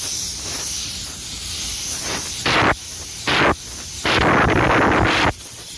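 Spray gun laying down a second coat of car paint, heard as loud close bursts of hissing air, four separate passes of a second or so each over a constant background hiss.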